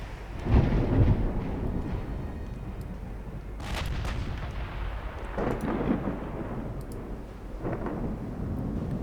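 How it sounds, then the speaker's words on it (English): Warship gun turrets firing in the naval battle game Ultimate Admiral Dreadnoughts, deep booming blasts rolling one after another under a continuous low rumble, heavy and resonant, no talk. "So she now has 2 turrets firing"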